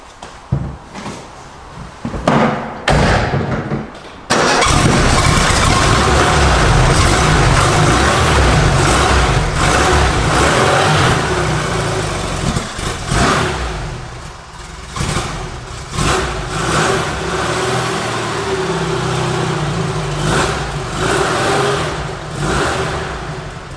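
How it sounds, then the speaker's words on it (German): A Porsche 356 engine starts and the car is driven forward. After a few short knocks there is a sustained, loud engine roar that falls back to a rougher running sound. "dazu wird das Auto mal eben nach vorne gefahren."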